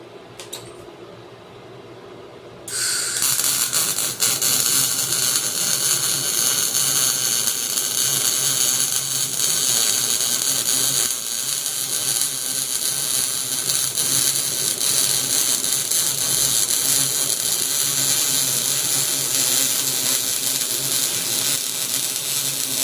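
A Lüsqtoff Starmig 250 MIG welder lays a downhill bead, starting after a quiet moment with a loud, steady, close crackling hiss that continues unbroken and without talk.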